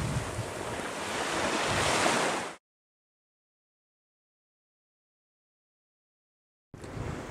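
Surf breaking on a beach beside a salt-water lagoon, a loud, close, steady wash with some wind in the microphone. It runs for a few seconds, cuts to silence, then returns briefly.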